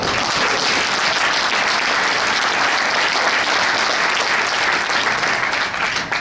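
Loud, dense audience applause at an Organo Gold business presentation, a sustained, even wash of many hands clapping together, with almost no talk.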